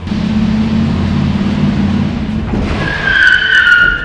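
An engine drones, then a car's tires let out a sharp, high-pitched skid and squeal in a handbrake turn in a parking lot near the end, loud and close.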